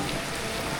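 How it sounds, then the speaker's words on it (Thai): Rain falls steadily at a village temple during morning almsgiving on Buddhist Lent day, a brief, dense, even hiss of drops with no voices. "ฝนมันตก"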